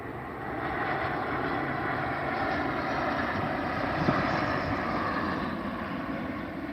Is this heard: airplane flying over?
yes